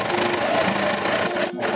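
A sewing machine stitches along the edge of a fabric cosplay wing petal, a steady close mechanical whir that runs continuously before a brief pause near the end.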